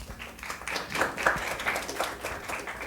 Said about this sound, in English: Applause for group 1.